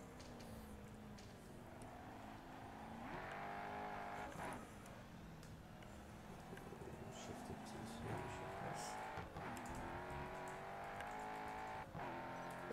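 A race car engine in the video game Grid Autosport drones and revs continuously, pitch rising and falling with shifts, with faint tire noise and occasional talk over it.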